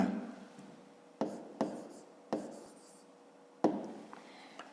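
A hand writes the names of line segments for a fifth-grade geometry exercise, with soft pen scratching on paper broken by several sharp taps as strokes begin. It is close and quiet, with no talking.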